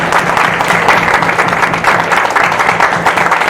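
Dense, steady applause from a seminar audience at a wellness business plan presentation, loud and continuous from start to finish with no voices rising above it.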